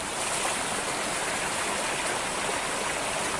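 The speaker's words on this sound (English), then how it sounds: "So this is the river I was talking about, and pretty moving one too, actually." A fast-moving river on a hiking trail on the Dingle Peninsula in Ireland, a steady close rush of water with broad, constant hiss and no pauses, loud and alone without talk.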